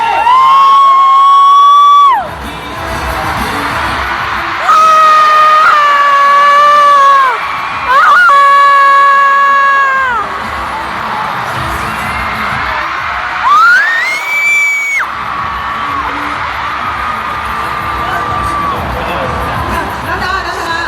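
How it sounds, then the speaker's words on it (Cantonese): A large concert crowd at a show in Hong Kong lets out loud bursts of high-pitched screaming and cheering in waves, with a quieter murmur between them. "我哋一齊俾啲掌聲"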